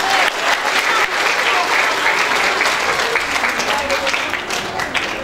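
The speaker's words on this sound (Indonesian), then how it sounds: "Tepuk tangan yang meriah untuk Mbak Alisa." Audience applauding at an indoor talk event, a loud, dense burst of many people clapping that continues steadily for about five seconds with a slight fade near the end.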